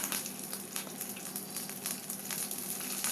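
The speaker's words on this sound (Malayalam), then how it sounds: "ഒരു രണ്ട് ടീസ്പൂൺ വെളിച്ചെണ്ണ ഒഴിച്ചതിന് ശേഷം ഇതിലേക്ക് അര ടീസ്പൂൺ കടുക് ചേർക്കാം ഇതിലേക്ക് കുറച്ച് വേപ്പിലയും നീളത്തിലരിഞ്ഞ പച്ചമുളകും കൂടി ചേർത്ത് കൊടുക്കാം" Mustard seeds, curry leaves and green chillies frying in coconut oil, a steady close crackling sizzle with small sputtering pops throughout, no talking.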